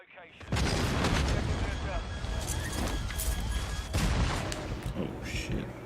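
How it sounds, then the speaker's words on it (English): Airstrike explosions in Call of Duty MW2 multiplayer: dense, loud rumbling blasts and booms roll on continuously, with sharper impacts around the middle and end, layered with gunfire-like crackle. "airstrike near your location"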